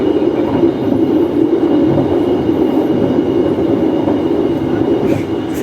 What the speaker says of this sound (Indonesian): kereta ekonomi subsidi nggak berhenti di Wates, sombong banget